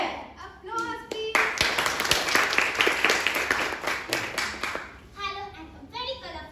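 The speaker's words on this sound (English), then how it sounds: "Applause, please." Audience at a Holi-special club meeting clapping together in a sustained burst of applause, with children's voices and chatter heard before and after the clapping.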